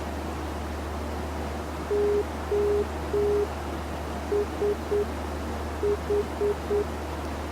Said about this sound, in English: make sure that the Morse code is correct by simply clicking on nav2 button up here on the audio panel